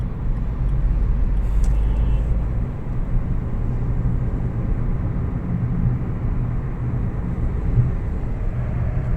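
A car with a single-clutch gearbox accelerates on a test drive, its engine a steady loud low drone with road rumble under it, strongest in the first seconds and then holding even throughout.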